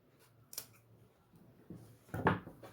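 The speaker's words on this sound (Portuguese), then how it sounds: "a gente pega a tesoura e corta o zíper" Scissors snip through a zipper during work on the lining of a crochet bag: a few faint, brief cuts spaced apart, with the last one slightly louder, in a quiet room.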